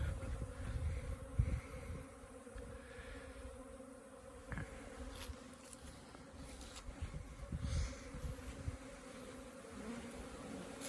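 Bees buzzing as they fly around in sunlight, a soft continuous drone with individual insects swelling louder as they pass close, over quiet outdoor background.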